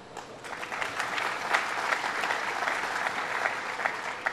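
An audience in Plattsburgh claps steadily through a government announcement event, a dense, sustained round of applause that stays even in loudness from start to finish.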